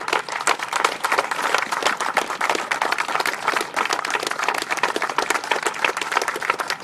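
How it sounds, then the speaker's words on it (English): Rally crowd applauding veterans at a Convention of States event in Virginia, a steady wash of many hands clapping throughout, fairly loud and even with no clear voice on top. "I'd like for us to just take a few minutes and recognize them with a round of applause first"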